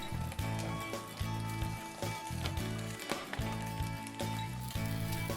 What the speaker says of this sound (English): Then put your peppers into the pan.